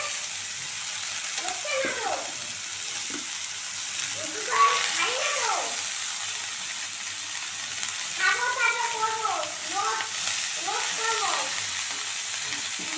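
Shredded cabbage hits a pan of spiced oil and fries, a steady sizzle broken by scraping stir strokes at intervals, cooking for a Bengali cabbage ghonto with hilsa fish head.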